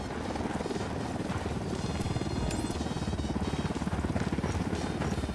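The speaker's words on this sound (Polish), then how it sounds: "Czy ty to widzisz, ten helikopter?" A helicopter in the video game Ghost Recon Wildlands beats steadily in rapid, even rotor chops, faint and distant, holding a constant rhythm for several seconds.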